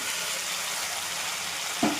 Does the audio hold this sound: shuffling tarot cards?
no